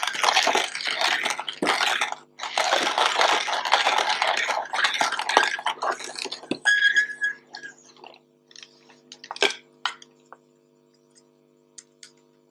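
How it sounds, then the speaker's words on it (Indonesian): A cheap Star Cam coffee grinder crunches coffee beans at a fine grind setting in loud rasping bursts with brief pauses. It then drops to scattered ticks and rattles and fades toward silence. "Oke, langsung saja giling."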